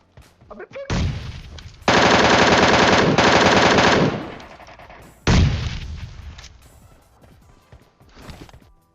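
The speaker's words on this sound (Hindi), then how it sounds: "यहाँ पे लिटरली मैं एक स्प्रे के अंदर 20 गोलियां जो होती है MK14 के अंदर 3 बंदे ले गया" Sustained bursts of MK14 rifle fire in PUBG Mobile, loud and close, with a long rapid spray in the middle and a shorter burst after it, separated by brief gaps.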